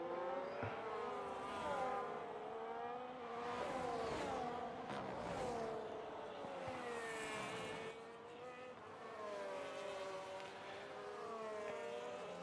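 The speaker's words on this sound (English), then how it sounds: "Ferrari's got a nice exit there coming out of the last corner." A Ferrari Formula 1 car in an F1 racing game at Bahrain, its engine whining and rising in pitch as it accelerates out of a corner, with other cars' engines sweeping up and down around it, moderately faint and steady.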